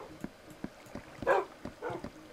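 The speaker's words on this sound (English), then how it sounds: "The heck is that noise? A dog just got hurt." A Minecraft dog whimpers after being hurt, giving short, soft, high cries, with the clearest whine near the middle, over light game noise.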